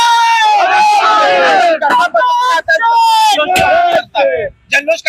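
Shiv Sena supporters in Raigad celebrate Bharat Gogawale's appointment as guardian minister with a loud, close crowd of shouting and chanting voices, rising in repeated bursts with short breaks.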